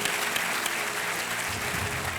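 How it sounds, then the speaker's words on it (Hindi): A studio audience at a Hindi TV quiz show applauds steadily and loudly after a winning answer, the dense clapping filling the room without pause and swelling slightly toward the end. "तालियां बजते रहे देवी और सज्जनों"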